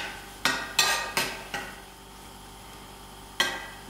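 Samosa mince filling being stirred in a pan, with several sharp knocks of a utensil against the metal, four in quick succession then one more after a pause, over a low background hiss.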